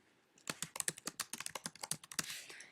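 Rapid keystrokes on a computer keyboard as a new Google Drive folder name is typed, a quick run of sharp, close clicks with no voices.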